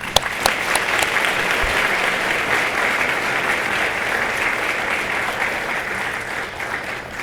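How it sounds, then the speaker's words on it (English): A banquet audience gives a sustained round of applause, dense, even clapping filling the room for several seconds with no talking over it. "give me a round of applause and help thank them"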